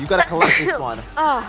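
A person gives one quick, sharp sneeze in the middle of close commentator talk during a live esports broadcast.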